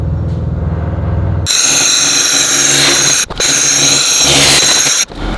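An XlaserLab X1 Pro laser cleaner stripping more than ten years of rust gives a loud, steady hissing buzz. It starts after a quiet moment and is cut by two brief dropouts.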